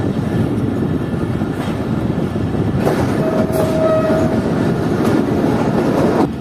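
The Chaman passenger train rumbles loudly and steadily along the track, with a dense continuous roar of wheels and carriages and a brief tonal whine partway through.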